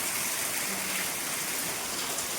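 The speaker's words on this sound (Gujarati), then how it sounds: "બધે પાણી પડે છે" Heavy rain falls all around in a dense, continuous hiss, with water splashing and pouring everywhere and no pauses across the whole stretch.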